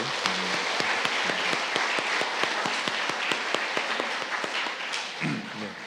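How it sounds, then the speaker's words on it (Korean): A church congregation claps in warm, steady applause for several seconds after a children's performance, dense and fairly loud. "우리 박수로 다시 한번 뜨겁게"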